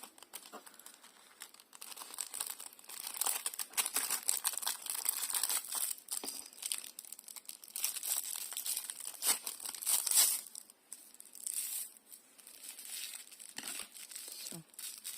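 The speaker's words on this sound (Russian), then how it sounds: "Пакетик для запекания, кусочек." A small piece of baking bag crinkled by hand as a crinkly insert for a fabric frog toy, continuous close rustling and crackling with fluctuating intensity, fairly quiet.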